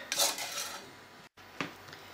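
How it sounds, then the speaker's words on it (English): A utensil scraping around a pan while a blueberry and pear sauce is stirred over high heat as it comes to the boil, giving a few short, soft rubbing strokes close by with a brief gap between them. "Keep stirring it whilst it's coming to boil"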